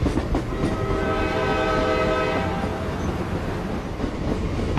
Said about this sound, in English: The train, with its Art Deco Zephyr cars, makes a daily hour and a half trip from Branson.